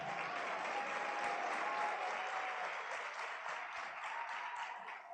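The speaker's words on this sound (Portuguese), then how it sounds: "Irmãos, vamos dar um aplauso ao Senhor pela vida da Ana Paula." A church congregation claps together in sustained, even applause, a dense wash of hand claps heard from a moderate distance that fades slightly toward the end.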